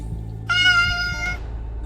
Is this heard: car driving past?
no